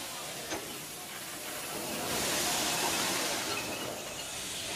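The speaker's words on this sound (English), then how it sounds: "The steam locomotive looks fascinating, it sounds fascinating." A steam locomotive on the Indian railways runs with a broad, steady hiss of steam and rumbling rail noise, swelling louder midway through and then easing off slightly, with no voices over it.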